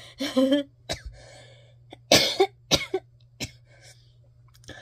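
Several sharp coughs in irregular bursts, close and fairly loud, with short quiet gaps and a faint steady hum underneath.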